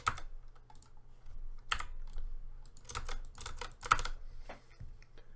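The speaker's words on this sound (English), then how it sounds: "So I'm just going to type in 0." Quick, light keystrokes tap on a computer keyboard in irregular clusters, close and fairly quiet over a low background hum.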